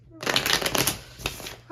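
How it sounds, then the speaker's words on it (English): A Light Seers tarot deck is shuffled by hand at close range, a quick burst of riffling, flapping card snaps lasting about a second, followed by a single sharp tap. "Let me give this a good shuffle."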